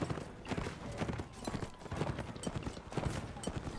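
Cavalry hooves pounding in Mount & Blade: Warband, a steady dense clatter of many horses galloping together through a battle, continuous and fairly close with no clear voices over it.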